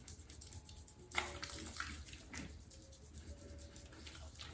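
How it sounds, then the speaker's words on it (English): Water splashes and trickles at a bathroom sink while a face is washed at night, a few soft irregular splashes over a steady low hum, fairly quiet and close. "Okay, and then I'll wash my face."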